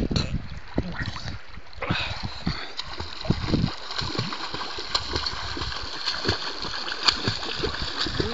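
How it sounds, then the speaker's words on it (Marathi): A swimmer splashes through the water at Dhom Dam, irregular close splashes and sloshing strokes continuing throughout, with voices talking nearby. "आता मी कसं पोहतो"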